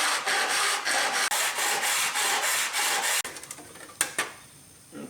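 Rapid back-and-forth rasping strokes trim the edge of a wooden dust chute, loud and close in a rhythmic run, then stop and give way to a few scattered knocks and scrapes.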